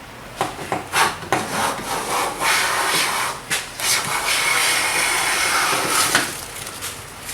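A Buckeye jack hand plane set for fine shavings is pushed across wood in a series of close, rasping strokes, several short swipes followed by longer hissing passes, with no talk.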